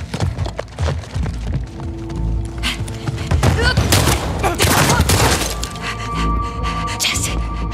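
Gunfire and impacts in the video game The Last of Us Part II, with loud bursts and cracking shots under dialogue and score, busiest midway through and continuing to the end.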